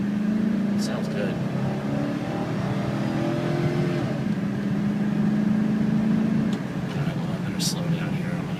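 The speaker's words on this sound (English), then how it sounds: "Let's drive this thing a little bit harder here." A 2005 GMC Sierra 4x4 Z71 SLT pickup accelerates hard, its engine droning steadily and rising in pitch as heard from inside the cab, with some talking alongside.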